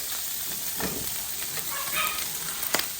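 Bacon sizzles and crackles in a hot pan as stir-fry prep begins, a steady broadband hiss with scattered pops and a few brief utensil sounds.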